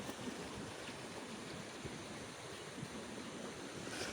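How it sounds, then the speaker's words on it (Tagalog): Water in a stream flows steadily in a quiet rural spot near Canlaon City, Negros Oriental, a constant even rush with no voices. "Rinig mo lang talaga yung agos ng tubig."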